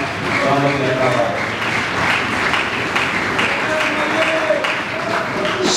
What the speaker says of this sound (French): Je vous invite à applaudir nos deux services qui nous accompagnent dans notre travail.